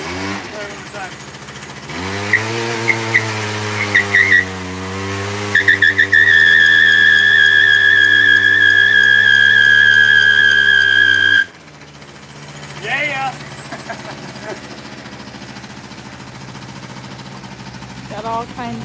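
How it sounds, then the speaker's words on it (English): A scooter doing a burnout: the small engine revs hard and holds high with a shrill whining squeal for several seconds, then cuts abruptly to a lower, rougher idle. Voices talk nearby. "I can't believe that actually did a burnout"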